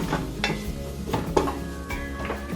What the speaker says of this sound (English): I'm going to mix it around until all of the flour is soaked up by the oil